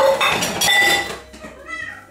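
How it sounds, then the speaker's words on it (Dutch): A dish clatters hard into a kitchen dish drying rack, a short bright burst of clinking crockery near the start, then quieter rattling as it settles while a person talks nearby. "Die ging even te hard in het afdruiprek."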